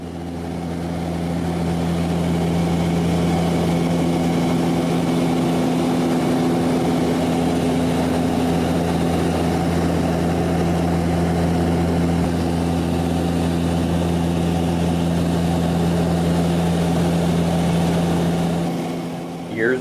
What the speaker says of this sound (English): I'll let you hear the engine of the aircraft for a few seconds.